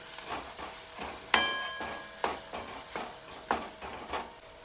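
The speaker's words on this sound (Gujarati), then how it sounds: "પહેલાં તો બટેકા જ આ રીતના શેડવવાના છે તેલમાં સરસ મજાના એકદમ" Potatoes fry in hot oil in a pan for a farali moraiya khichdi, a steady soft sizzle broken by several sharp scrapes and clinks of a spoon stirring, close and without any talking.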